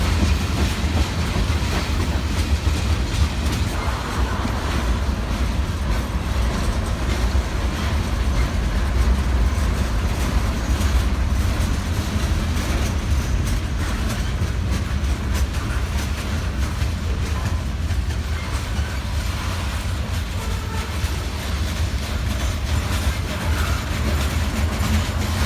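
Norfolk Southern freight train NS 361 rolling past on the Griffin district line south of Atlanta, a steady loud rumble of railcars and wheels on rails that continues throughout with no voices.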